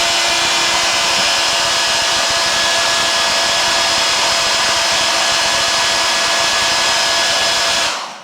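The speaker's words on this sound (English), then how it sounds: "Then use a hairdryer to melt it." A hair dryer blows loudly and steadily at close range, melting beeswax polish, then cuts off at the very end.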